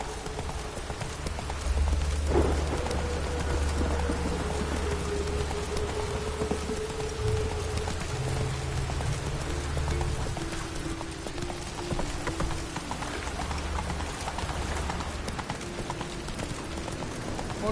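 Horse hooves galloping in a video game, a steady, close clip-clop rhythm that runs throughout over a low rumbling background and soft game ambience.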